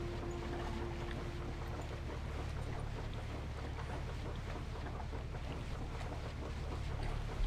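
A steady, faint wash of water and wind accompanies a boat ride in World of Warcraft, continuous and even throughout.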